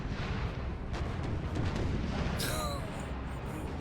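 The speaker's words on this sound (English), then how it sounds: "The French artillery is just going to town on this battle line." French cannon fire in a Napoleon: Total War battle at Waterloo rumbles as a steady dull roar of distant booms and crackle, with a brief whistling tone near the end.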